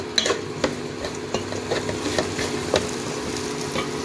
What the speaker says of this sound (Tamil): முட்டைகோஸ் நல்லா வேகணும். இந்த எண்ணெயில் வசக்கிட்டு இருக்கிறதுல இதுலேயே நல்லா வேகணும்.